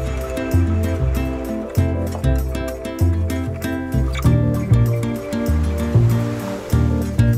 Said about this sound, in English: in fairly rapid spoonfuls, add a little at a time, whisk it in